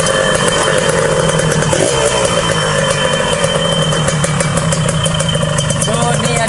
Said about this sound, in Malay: motor yang kita dah hidup, dengan dia punya bunyi